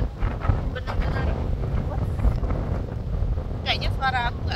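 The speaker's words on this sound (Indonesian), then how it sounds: "Ini benar-benar windy banget" Strong wind on a beach at Lake Entrance, Australia, buffets the microphone in a constant low roar, with brief chirping sounds near the end.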